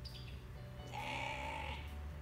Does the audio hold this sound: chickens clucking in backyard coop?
no